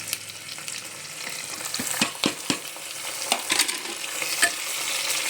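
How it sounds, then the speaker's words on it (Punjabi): Tomatoes frying with onions in a pan, a loud close sizzle with repeated sharp clacks and scrapes of stirring, no talking. "ਇਹਨੂੰ ਵੀ 2 ਮਿੰਟ ਭੁੰਨਾਂਗੇ ਟਮਾਟਰ ਨੂੰ ਵੀ"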